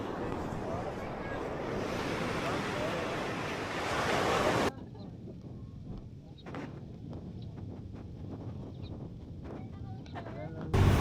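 Ocean waves at a La Union beach in the Philippines, a steady broadband surf wash that is loud for about five seconds, then drops to a softer, distant roll with scattered small splashes.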